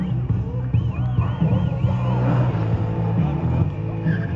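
Tuned car at a Sofia tuning show spinning its tires in place to warm them, a loud continuous engine drone with rising tire squeal, under an announcer's voice and crowd noise.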